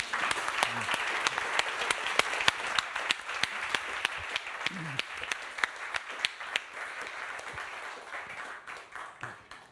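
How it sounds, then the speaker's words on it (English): An audience claps in unison with strong, even beats, a rhythmic applause after a talk that fades out over the last seconds, with a faint voice briefly under it. "We will have a fantastic rhythmic applause for Thomas and Katja"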